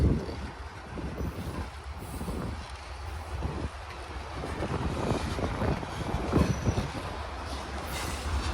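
A Union Pacific train rolls along the BNSF main track in Kalama, Washington, a loud, continuous rumble with rhythmic wheel clatter and occasional squealing, passing close with no talk.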